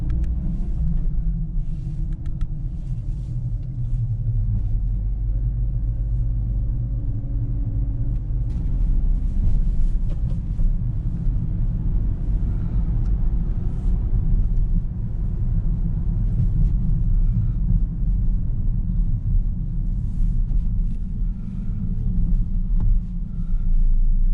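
A Toyota hatchback with a small petrol engine cruises along a road, heard from inside as a steady low cabin rumble of engine and tyres with no voices over it.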